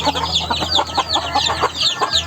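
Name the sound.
chickens clucking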